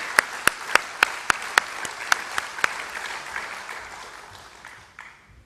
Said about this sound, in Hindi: आपसे मैं निवेदन करता हूँ कि सब लोग तालियां बजा के इस संस्थान का अभिनंदन करें।